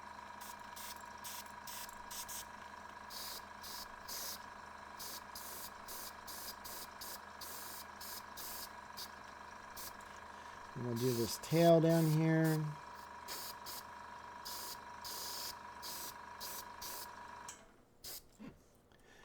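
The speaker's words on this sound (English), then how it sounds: "So I can kind of spray from every angle, even on top." An airbrush sprays paint in short repeated bursts of hiss over a steady mechanical hum, while someone talks throughout; a louder rumbling passage occurs midway before the sound cuts off near the end.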